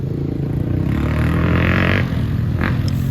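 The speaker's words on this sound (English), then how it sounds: "Coco, do you know it's the sound of an ATV?" ATVs passing a hillside campsite produce a continuous low engine drone with a faint rising and falling rev, steady and fairly loud throughout, with no voices.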